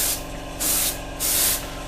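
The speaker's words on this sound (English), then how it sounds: "keep your airbrush pressure up, and that will help you out no end" Airbrush spraying paint onto a Revell 1/48 F-15E Strike Eagle model kit, a steady hiss in two strong bursts with quieter hissing between them, close and alone.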